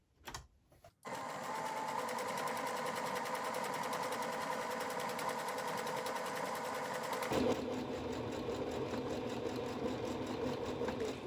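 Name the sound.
sewing machine sewing side seam of fabric face mask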